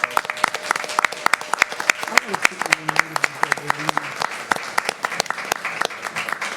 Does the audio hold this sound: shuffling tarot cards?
no